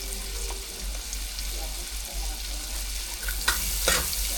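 Onion and pimento frying in a pot give a steady, soft sizzle over a low hum, with a couple of brief stirring clinks near the end.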